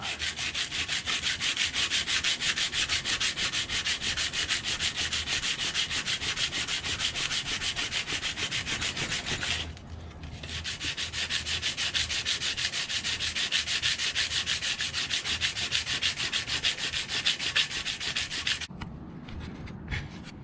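Sandpaper rubs steadily along a horseshoe knife blade during cleanup, a continuous close abrasive rasp that runs almost without break, pausing briefly near the middle and again just before the end.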